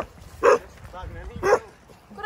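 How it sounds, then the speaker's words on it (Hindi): A dog following people through a jungle settlement gives two sharp, loud barks about a second apart, close by. "ये इनका कुत्ता हमारे पीछे आ गया है"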